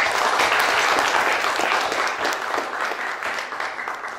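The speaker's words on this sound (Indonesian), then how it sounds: "Boleh tepuk tangan?" An audience at a young entrepreneurs' business talk in Tasikmalaya gives warm applause for an alumni association of a local high school, a thick, steady burst of many clapping hands that slowly tapers off.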